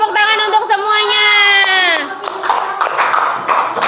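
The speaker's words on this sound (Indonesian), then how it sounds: "yuk kita beri tepuk tangan untuk semuanya" Schoolchildren in a sixth-grade class clapping, starting with loud shouting and cheering voices, then breaking into brisk, close, slightly uneven applause.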